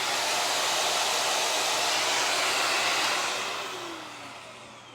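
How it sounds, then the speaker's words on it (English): A Shark Navigator Lift Away upright vacuum runs with a loud, steady broadband whoosh of motor and airflow, then eases slightly in level toward the end, with no one talking. "once you turn the vacuum on,"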